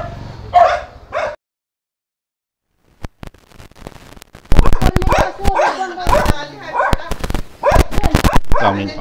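Several dogs bark in quick, overlapping bursts close by, loud yaps and yips packed together after a near-silent pause, with people talking over the commotion.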